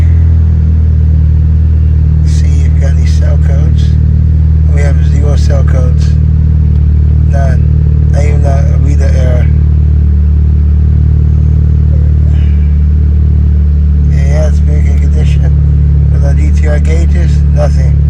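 A Honda Civic R18 engine idles steadily while warming up, with a low, constant rumble, while people talk intermittently close by.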